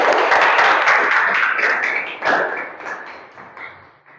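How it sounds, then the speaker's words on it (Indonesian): Students in a classroom clap for a classmate, a dense burst of applause that starts strong and thins out over about four seconds. "aplaus untuk temannya"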